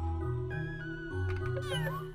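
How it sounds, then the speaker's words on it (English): Cat meowing in the video game Yuletown, a few drawn-out, tonal meows rising and falling in pitch over a steady musical backdrop. "The kitty wants to speak again?"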